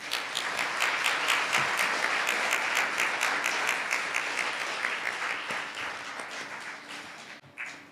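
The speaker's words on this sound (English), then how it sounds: "That concludes all of our contestants' orations. Please, let's give them a round of applause." An audience at a youth oratorical contest breaks into sustained applause, loud and dense at first and then tapering off over the final seconds.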